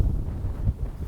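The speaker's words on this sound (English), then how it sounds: "I think I'm gonna pass on trying to set up out here in this wind right now." Wind gusts buffeting outdoors on the open prairie at a small ghost town, a low steady rumble with brief louder surges, no talking.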